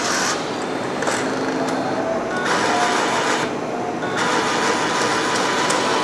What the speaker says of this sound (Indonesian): Printer akan mulai proses head cleaning.